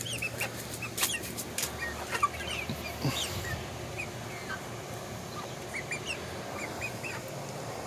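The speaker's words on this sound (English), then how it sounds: "So here's the chickens." Backyard chickens clucking at a distance, soft scattered calls and short squawks over a constant outdoor hiss, fairly faint and irregular with no talking.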